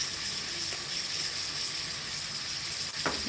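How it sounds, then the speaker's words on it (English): Chopped onion and tomato softening in a pan, a steady close sizzle and hiss throughout with a faint clink near the end. "We're letting the onion and the tomato to soften."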